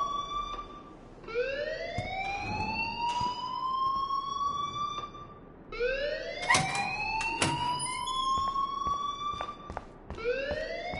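A wailing alarm in the Life is Strange video game, with repeated rising siren sweeps cycling every few seconds, loud and continuous, with sharp clatter and bangs mixed in.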